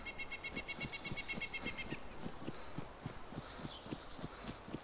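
Quick repeated bird chirps in the game DayZ over a steady rhythm of hoof-like clip-clop footsteps; the chirping fades after a couple of seconds while the steps continue.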